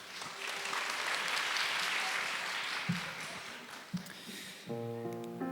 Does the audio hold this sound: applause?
yes